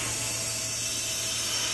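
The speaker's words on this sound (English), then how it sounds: "So anytime we do a bait, it gets vacuum chambered." A vacuum chamber degassing silicone for swimbaits gives a steady, even drone with a broad airy hiss and a low hum underneath, unchanging throughout, with no talking.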